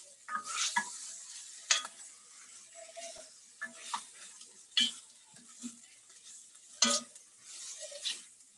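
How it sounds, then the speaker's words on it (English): A veggie frittata mixture being stirred in a pan: intermittent scraping and clinking strokes of a utensil against the pan with soft sizzling between, close, irregular, and with no talking. "And then I'm going to stir this up first."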